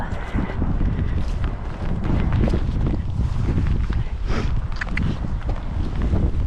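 Outdoor wind buffets the microphone loudly and continuously, with rumbling gusts and faint footsteps or hoof sounds mixed in.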